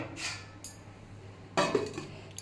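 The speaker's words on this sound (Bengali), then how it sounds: "আমি সেদ্ধ হওয়ার জন্য দশ মিনিটের জন্য একটু চাপা দিয়ে দেবো" A metal lid set onto a pot of katla fish curry with potato, drumstick and pointed gourd, giving a soft clink followed by a louder clattering knock, close by with no talk.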